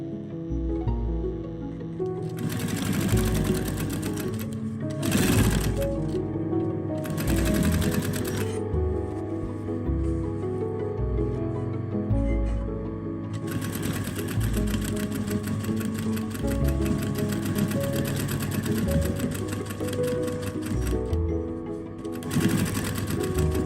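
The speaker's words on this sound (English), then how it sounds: "I'm holding the camera and sewing at the same time with one hand." A sewing machine stitches a velvet roman blind with a decorative band, its fast mechanical chatter running in long bursts with brief pauses, close and steady throughout.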